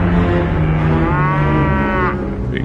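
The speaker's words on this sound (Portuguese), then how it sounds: "os bois tropeçaram" Oxen lowing loudly and close by in a field, one long sustained moo that holds steady and then falls off near its end, with no voices over it.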